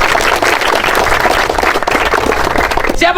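A crowd applauding after being urged on by a speaker: dense, continuous clapping with a noisy crowd wash throughout, loud and fairly close, fading near the end.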